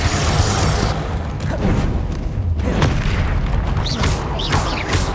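The Confringo explosion spell is cast in the Hogwarts Legacy video game, bursting as loud, rumbling booms with crackling debris, followed by a few more blasts in quick succession.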